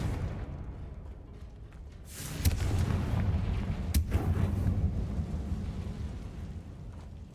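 Confringo explosive spell cast in Hogwarts Legacy, a low booming blast that swells up after a quiet rumbling start, with a sharp crack partway through and a long rolling thunder-like tail fading out.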